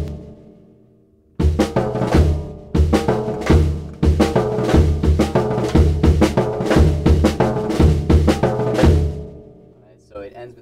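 A jazz drum kit plays a fast, busy solo phrase with dense strokes across drums and cymbals, ending on a pair of double strokes and a sharp rim shot, loud and close, followed by a brief near-silence.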